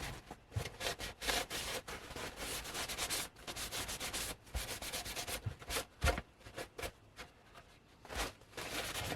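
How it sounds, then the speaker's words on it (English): Sandpaper rubs rhythmically over a Mandalorian vambrace armor piece, producing close, scratchy back-and-forth strokes with short pauses between passes, no voices. "we're going to sand off the other piece"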